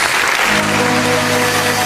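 A church congregation applauds at the close of a worship service, a dense, steady wash of clapping that holds at even loudness throughout, with a low musical hum underneath.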